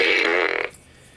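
A child lets out a loud, sustained buzzing fart noise, likely a mouth-made raspberry imitating a fart, lasting about half a second before it sputters out and fades into quiet.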